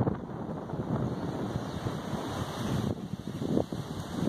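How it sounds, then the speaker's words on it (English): Strong gusting wind buffets the microphone in loud, uneven bursts near the 2018 Kilauea eruption in Leilani Estates, Hawaii, with a broad roaring rush and no voices. "Kind of windy out here today."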